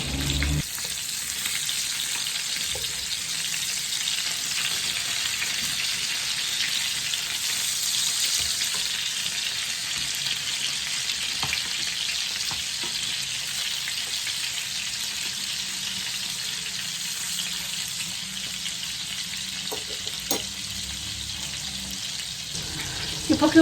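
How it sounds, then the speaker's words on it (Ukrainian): Cutlets frying in a pan give a steady, close sizzle that runs on without a break, with a few faint clinks near the end and no talk. "мене там котлетки смажаться"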